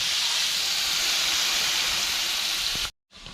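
Fish sizzling in hot oil in a village kitchen, a steady loud hiss of frying that runs continuously and then cuts off briefly near the end.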